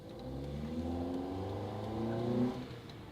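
A rebuilt 2010 Honda Accord engine revs up on its first pull, a rising mid-range roar with climbing harmonics that peaks and then falls off, heard fairly quietly with no voices.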